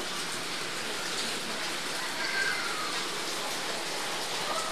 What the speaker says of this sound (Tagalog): Habang umulan ng panahon ngayon, ay December 27, 2024. Nababasa na yung daan.